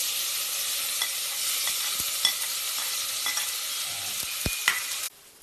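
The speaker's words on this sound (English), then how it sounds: "Now take a pan, heat it up at low flame and put 1 small spoon of oil. Then add at first tomato." Tomato fries in a small spoonful of oil in a pan over a low flame, giving a steady, close hiss with a few faint clicks and taps, then the sizzle cuts off abruptly near the end.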